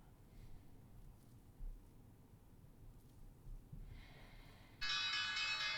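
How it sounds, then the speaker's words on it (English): Stock market opening bell rings on a live trading stream, a sustained bright electronic clang arriving near the end and holding steady, preceded by a softer tone and faint breathing. "there's the opening bell"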